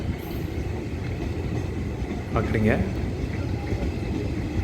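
A train pulls away from a local station, a steady broad rumble of wheels and carriages filling the scene, with a brief squeal near the middle and a voice speaking over it.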